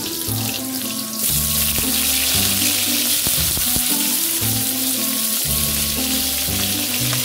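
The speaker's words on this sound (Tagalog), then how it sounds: "Kaya ginisa ko sayote yan guys" Chayote and onion sauté in a pan, giving a loud, hissing sizzle that swells after a second and keeps going, with knocks and scrapes of stirring over a low, steady hum.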